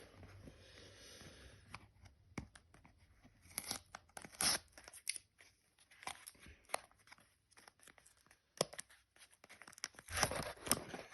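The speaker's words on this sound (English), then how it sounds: "take this white tape off" White tape is torn off a parcel during unboxing: a close, quiet series of irregular ripping and crinkling bursts, some sharp and short, others longer, with brief pauses between them.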